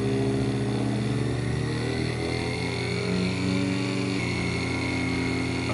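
A Sherline CNC mill spindle whines as it runs up in speed, its steady motor tone climbing and stepping up part way through, loud and continuous with no voices.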